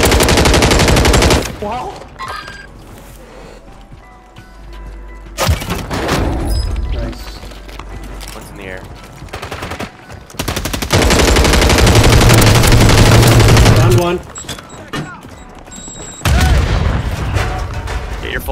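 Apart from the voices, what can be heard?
gunfire in Warzone 3 video game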